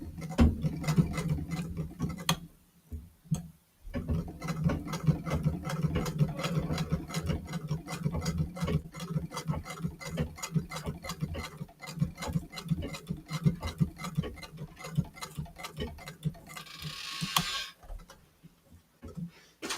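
A sewing machine runs steadily while stitching the last seam of a garment, its needle ticking in a fast, even rhythm for a long stretch, with a couple of brief pauses and a short whir near the end.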